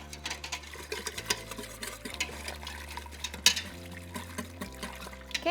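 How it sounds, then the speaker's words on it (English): Repeated scraping and clinking of a whisk stirring ranch seasoning, spices and cornstarch together in an Instant Pot pot, quick irregular strokes close by over a faint low hum. "To whisk everything together."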